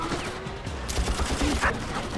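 Carried turret firing in Far Cry Instincts on the original Xbox, a rapid run of thudding game gunshots with low booms over steady background noise, continuous for a couple of seconds.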